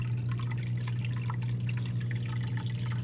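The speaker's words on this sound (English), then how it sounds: "In this one, we do have a waterfall, so it does provide moving water." Small waterfall inside a bearded dragon enclosure, giving a steady, continuous trickle and splash of moving water over a constant low hum, close by with no talking.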